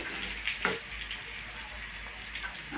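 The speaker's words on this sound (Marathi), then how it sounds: "लसूण पेस्ट टाकते चरचर आवाज येते बघा" A soft, steady sizzle of ginger-garlic paste frying in hot oil with bay leaves, with a brief stirring scrape partway through.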